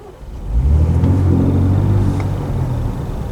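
A 2023 Ford Ranger Raptor's engine swells under gentle acceleration into a deep, steady rumble heard from the cabin, rising quickly then easing slightly as it holds, with no talking.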